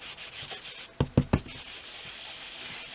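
Cardstock rubbed clean with an embossing buddy powder pouch while crafting, giving a soft continuous papery rustle with three short, sharper scuffs close together in the middle, no talking.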